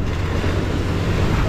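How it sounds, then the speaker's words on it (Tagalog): Large Pacific Ocean waves of about eight feet off the Philippines, heard from a boat as a steady broadband rush of surf and water mixed with wind noise, loud and continuous. "Nasa 8 feet siguro itong alon na ito"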